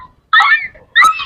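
A person vocally imitates a crying, hurt dog howling, giving two short, high, wavering whimpers separated by a brief pause.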